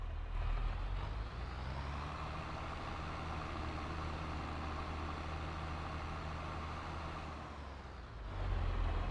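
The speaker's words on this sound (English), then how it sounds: "So there's the bale lorry." Bale lorry truck engine in a farming video game, a steady low diesel drone that holds constant, then dips slightly before swelling louder near the end, with no voices.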